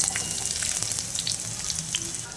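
Two large sliced onions frying in oil in a pan, a loud close crackling sizzle that stays dense and steady, with light stirring touches and no voices.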